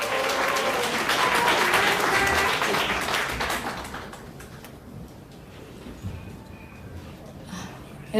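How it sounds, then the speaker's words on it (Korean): An audience at a patriotic rally in Korea claps warmly to welcome a speaker, loud applause that fades after a few seconds into quieter room noise with scattered sounds. "뜨거운 박수로."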